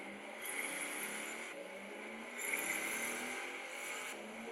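A car races at high speed in the driving game Car Simulator 2, its engine a steady, sustained roar with broadband road noise that swells and eases in waves, with no talking.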